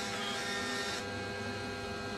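A small printer attached to a Kane 425/455 combustion analyzer prints readings with a continuous buzzing whir that steps down in pitch partway through, steady and fairly close, with no talk.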